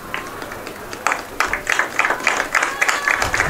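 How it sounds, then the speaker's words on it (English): Warm applause from a home crowd at a women's lacrosse game as an injured player gets up, starting sparse and building into brisk, steady clapping from a spread-out audience. "A nice warm round of applause from the Seahawks home crowd for Tercy"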